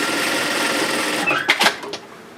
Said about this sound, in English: So just make sure that's all nicely in place and stitch it down.